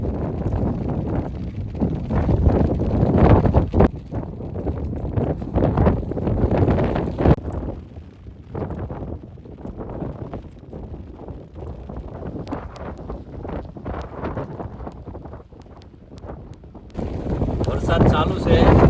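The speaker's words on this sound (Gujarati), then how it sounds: "વરસાદ ચાલુ છે અને પવન બહુ વધારે છે" Strong wind gusts buffet the microphone with heavy rain at a campsite in a daytime downpour, a loud continuous roar easing in the middle and surging again near the end.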